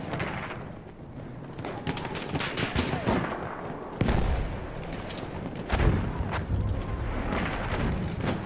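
Enemy machine gun fire during a Battlefield 1 Operations battle at Soissons. Rapid, continuous bursts rattle throughout, with heavier booms and explosions cutting in now and then over a dense wartime din.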